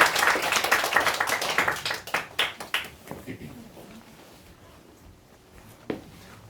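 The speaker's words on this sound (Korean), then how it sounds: "다시 한 번 더 우리 축하 박수 주세요" Clapping from a church youth-group congregation celebrating a member, louder at first and thinning out to scattered claps and taps, with a voice speaking under it.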